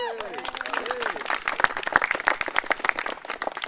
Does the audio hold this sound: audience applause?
yes